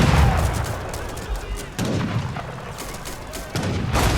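Cannons firing on a town in the strategy video game Age of Empires III: repeated booming blasts at intervals amid dense battle noise, loud and close.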